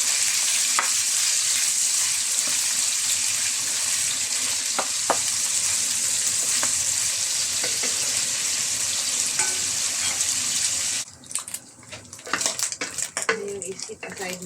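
Pork sizzles loudly in hot oil in a pan for pinakbet, a dense, steady frying hiss with the occasional scrape and clink of a utensil, turning to clattering stirring toward the end.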